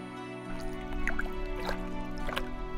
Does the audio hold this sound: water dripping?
yes